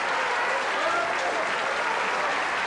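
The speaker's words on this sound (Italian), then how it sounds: "grazie, siete molto gentili per questi applausi" A studio audience on an Italian game show set applauds, a dense, even wash of many hands clapping without pause at a moderate distance.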